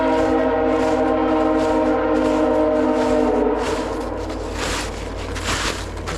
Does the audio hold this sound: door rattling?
no